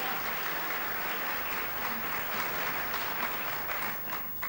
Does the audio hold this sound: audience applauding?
yes